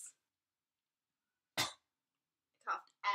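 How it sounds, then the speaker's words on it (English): A person lets out a single short cough, close and sharp, followed by a couple of brief breathy bursts, all separated by silence. "I coughed at your cleavage."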